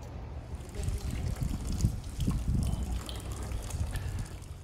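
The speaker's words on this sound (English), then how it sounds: "This particular faucet is going into a clear glass" Tap water from a faucet runs steadily into a clear glass drawn from a well in Marlin, Texas, a continuous low splashing trickle with no speech, fairly close and moderate in level.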